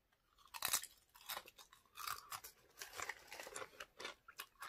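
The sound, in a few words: chewing and crunching vegan snack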